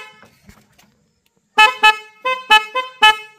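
An auto rickshaw horn honks six short, loud, harmonically rich blasts in an uneven rhythm after a second and a half of near silence, close to the listener.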